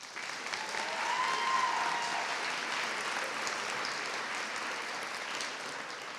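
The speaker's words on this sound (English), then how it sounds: "Please give a round of applause for your senior class council." Applause from the audience at a senior honors night for the senior class council, a dense, steady clapping that swells early and holds at a moderate level, with a faint whoop or call rising briefly above it.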